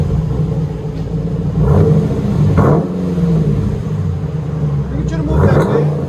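A 2020 Dodge Durango R/T with the 5.7L V8 and its stock suitcase muffler exhaust idles with a steady low rumble, swelling in three short revs, heard up close with voices nearby.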